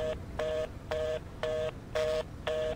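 A telephone is dialed in the indie horror video game Driving Home: six short, evenly spaced keypad tones, clear and alone with no talking.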